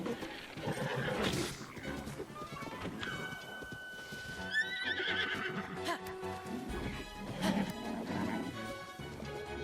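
Horse neighing in Zelda: Tears of the Kingdom: loud, clear whinnies rise and fall repeatedly among hoofbeats and clattering game noise, fairly close and prominent.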